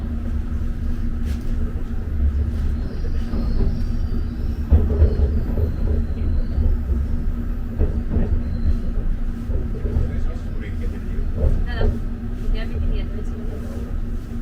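A London Underground train pulls into Baker Street station, a steady low rumble and rattle of the carriage running throughout at close range, with faint voices and announcement-like sounds over it.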